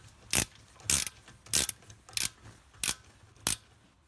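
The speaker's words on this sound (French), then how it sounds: "on enlève le petit capuchon et on utilise une clé Allen" An Allen key ratchets on the brake caliper bolts of a BMW F10 during a front brake pad change, giving six sharp metallic clicks at a regular pace of about one every half second, close and clear.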